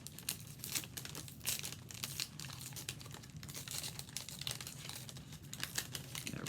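Sheets of paper being unfolded while paper donuts are made: close, continuous crinkling and crackling with quick rustling bursts throughout, no voices.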